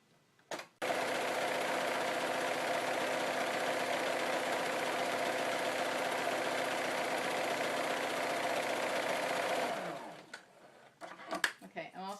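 A sewing machine runs a continuous zigzag stitch along an apron tie for about nine seconds, a steady close mechanical whir that stops abruptly, after which there is faint handling.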